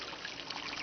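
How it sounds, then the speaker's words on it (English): Water flows in a steady, soft trickling stream outdoors, faint and continuous with no voices. "I hear the water."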